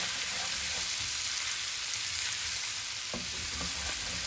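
Stir-fry noodles sizzle steadily in a hot pan while being stirred and tossed, with a continuous frying hiss and a few sharper scrapes and knocks of the utensil near the end, and no talking.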